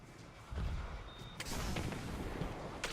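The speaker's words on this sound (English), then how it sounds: "That is a dummy grenade." A grenade explosion in the Destiny 2 Crucible multiplayer mode lands as a muffled boom, with a second sharper burst and rumbling gunfire-like noise continuing after it, fairly faint overall.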